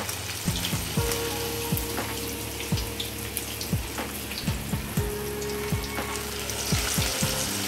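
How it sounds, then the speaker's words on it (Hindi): Chicken lollipops coated in spice masala deep fry in hot oil over medium heat, a continuous bubbling sizzle broken by repeated short, sharp crackles and pops, close and fairly loud, with no talking. "और उसमें एक एक लॉलीपॉप को डाल के हम डीप फ्राई करेंगे"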